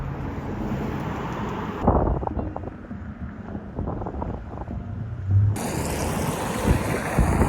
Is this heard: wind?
yes